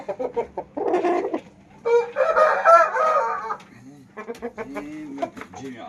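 A fighting rooster crows loudly and close, with clucking fowl around it and people talking quietly nearby.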